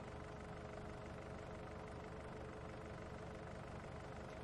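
Low, constant engine drone of a small-horsepower Kubota tractor in Farming Simulator, faint and unbroken throughout with no voices.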